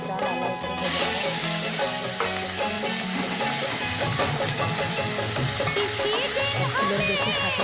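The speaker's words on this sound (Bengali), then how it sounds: "এবার একটু গ্যাসটা লাল করে ভেজে নেব" Spices fry in a pan over a high gas flame, a continuous hissing sizzle with stirring scrapes, largely masked by a song playing loudly over it.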